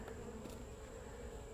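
Honeybees in a hive hum in a steady, faint low drone with a thin high whine running through, close by and uninterrupted.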